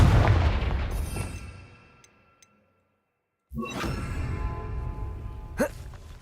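A Confringo fire spell bursts in Hogwarts Legacy, a loud crackling blast that cuts to sudden silence and then returns with rumbling debris and a sharp ringing hit near the end.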